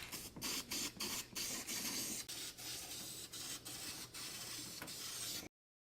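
Spray paint hissing onto a rusty, pitted part from an old Oldsmobile 98, a series of steady bursts broken by brief pauses, close and fairly quiet, then cutting off abruptly.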